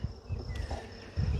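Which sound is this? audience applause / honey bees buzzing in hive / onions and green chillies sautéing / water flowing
honey bees buzzing in hive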